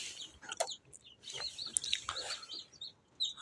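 Newly hatched Kuchinsky and Australorp chicks in a brooder peep with faint, high, scattered chirps, several overlapping, close but quiet, with no voices.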